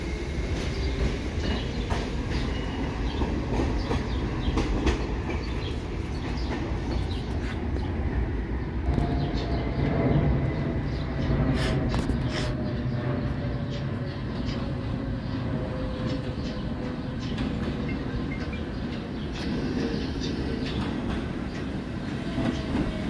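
An NYC subway D or N train runs along the West End line, a steady rolling rumble with clickety-clack and faint wheel squeal, continuous and fairly close throughout.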